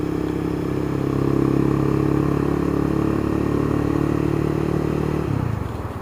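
A motorcycle engine drones steadily in traffic, its mid-range tone dropping as the rider downshifts to slow, then cutting off abruptly near the end; close and loud throughout with no talk.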